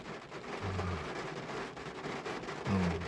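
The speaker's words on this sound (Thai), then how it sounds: "ได้ยินเสียงฝนตกอย่างแรง" Steady broadband hiss of heavy rain pouring down during a storm, with a low rumble swelling near the end, no voices.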